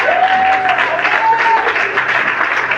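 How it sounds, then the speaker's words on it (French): Church congregation clapping and cheering together during a worship service, a steady wash of many hands with a faint sung or called voice line over the top. "Ce sont toutes les acclamations."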